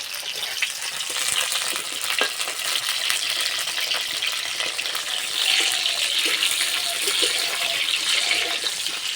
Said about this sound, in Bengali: পটলটা বেশ লাল লাল করে ভেজে নেব।